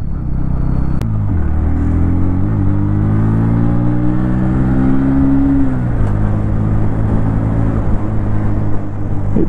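A 2024 Bajaj Pulsar NS125 motorcycle engine drones loudly and close while being ridden in fourth gear, its pitch climbing and then easing off as the throttle changes, with steady wind and road rumble underneath.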